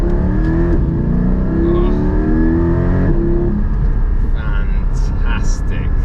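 A Porsche 718 Cayman GT4 with PDK gearbox accelerates hard, its engine note rising loudly through the gears with a quick shift, heard from inside the cabin while someone speaks briefly.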